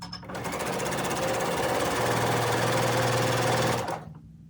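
A sewing machine stitches quilt squares for a fat quarter quilt, a steady close whirring hum with rapid needle chatter running continuously for about three and a half seconds before stopping abruptly.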